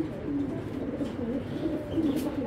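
A pair of top-quality racer pigeons coos steadily up close, a continuous run of rolling, wavering throaty coos that swell and fall, with a faint chirp and no talk.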